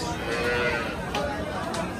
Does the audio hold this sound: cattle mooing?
yes